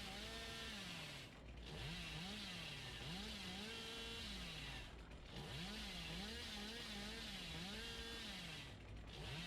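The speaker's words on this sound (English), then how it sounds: "I'm gonna rev my chainsaw in the corner." A chainsaw in the video game Dead by Daylight revs continuously, a loud droning engine with wavering pitch that pulses up and down, broken by two brief dips in sound.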